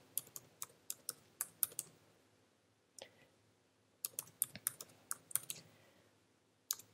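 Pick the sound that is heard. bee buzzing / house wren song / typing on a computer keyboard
typing on a computer keyboard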